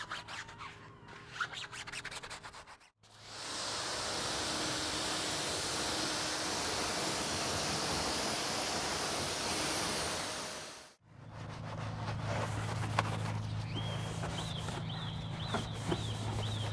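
Water from a hose spraying onto a Mazda CX-30's wheel and tire to wash off brake dust, a steady broadband hiss lasting several seconds, framed by quieter moments of handling before and after.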